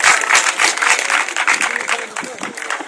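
An audience applauds at a cosplay award ceremony, a steady burst of dense hand clapping throughout that slowly thins toward the end, with indistinct voices mixed in.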